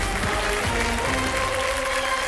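Applause from a studio audience on a televised quiz game show, a steady wash of clapping held at even loudness throughout, with a faint hint of voices underneath.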